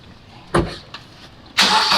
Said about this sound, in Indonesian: kalau sudah semuanya akan di tes mesinnya starter